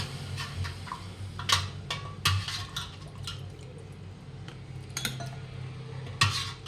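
Soup is ladled out of a copper deg cooking pot holding Kanduri mutton, with metal ladle clinks and scrapes against the pot and liquid pouring and dripping close by.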